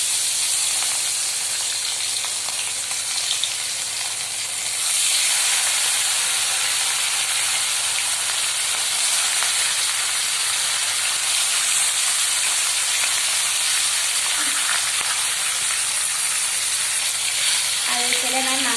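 Fish (bahu) sizzles in hot oil in a pan, a loud steady crackling hiss close by that briefly dips then resumes, with faint stirring scrapes near the end.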